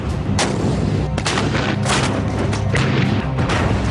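Heavy artillery fire from the 1999 Kargil War booms repeatedly in a dense, continuous barrage, loud and rumbling, with several sharp blasts standing out.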